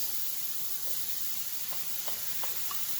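Ground pork frying in a pan with scallions, ginger and crushed red pepper, giving a steady close sizzle with a few faint stirring clicks, alone with no talk.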